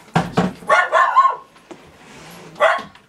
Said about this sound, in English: And excuse my fucking dogs,